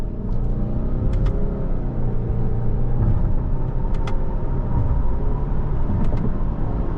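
Cabin sound of a 2020 Subaru Ascent Touring, a three-row SUV with a 4-cylinder engine, accelerating on the road: steady droning engine and road rumble with a rising hum and a few faint clicks, no talking.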